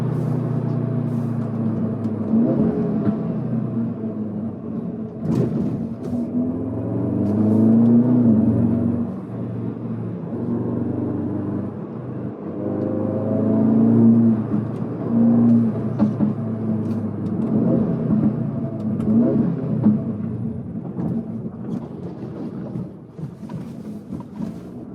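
Audi S3 8Y exhaust rumbling from close by, a deep burble swelling and easing over two gentle revs with construction noise around, no talk.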